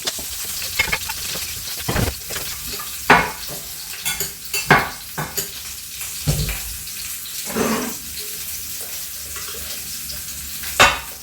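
Leftover spaghetti reheats in olive oil in a pan, a soft sizzle broken by irregular scraping stirs and clanks of a utensil against the pan, heard close with no talking.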